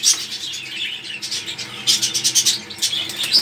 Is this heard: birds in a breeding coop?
yes